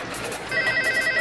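Telephone ringing indoors, a steady electronic trill repeating in quick regular pulses over a low background hum, moderately loud and alone without talk.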